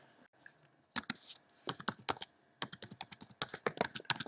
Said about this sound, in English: So type in your password and username